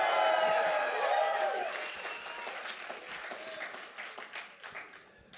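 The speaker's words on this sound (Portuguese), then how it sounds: "um aplauso ao Senhor neste lugar." A church congregation at a conference service bursts into loud applause mixed with cheering voices, and the clapping slowly fades into scattered claps.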